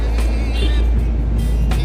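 A car passes close by, a broad steady engine and tire roar with heavy low rumble throughout, no talking.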